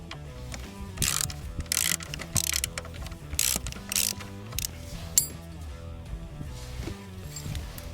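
A ratchet turning a 7/16 swivel socket on a DR mower, its quick metallic clicking coming in several close bursts with short pauses between them, and no voices.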